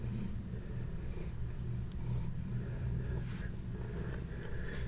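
A big cat purring, a soft, steady low rumble close by, continuous and fairly quiet with no talk over it.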